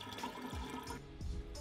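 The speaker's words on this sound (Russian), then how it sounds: "Вливаем 2 литра воды комнатной температуры." Two litres of room-temperature water poured into a lemonade jug of lemon-and-mint lemonade, a steady close splashing and gurgling that continues throughout with no talking.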